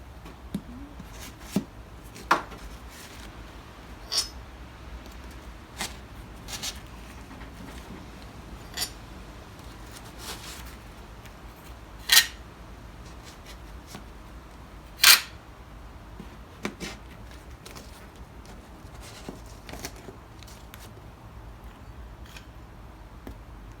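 Bolts are loosened and removed one by one from a Briggs & Stratton 6hp engine on a 1962 Bolens 600 tractor. Scattered sharp metallic clicks and clinks ring out close up over a quiet background, with no talking.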